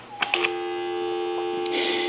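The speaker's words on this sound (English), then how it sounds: "I'm gonna call time and temp again." A Coby CT-P750 speakerphone dials a time and temperature line: a few quick touch-tone beeps, then a steady line tone held close and clear for about two seconds.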